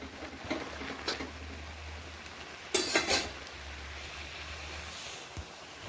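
Maggi noodles get a brief stir in a pan: a couple of soft scrapes and clinks of a utensil against metal over a steady low hum and faint background hiss.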